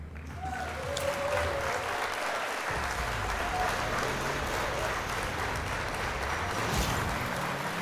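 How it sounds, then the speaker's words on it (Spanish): Steady, full applause from a crowd runs for about eight seconds during a live-streamed Forza Horizon 5 gameplay session, greeting a viewer who has just joined; the dense clapping stays even throughout with no talk over it. "Y un aplauso para Diego, que acaba de entrar."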